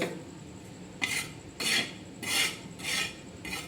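Pearl millet flour roasting in a pan, stirred in five rhythmic scraping bursts of a spoon across the metal, each about half a second long, close and moderately loud over low background hiss.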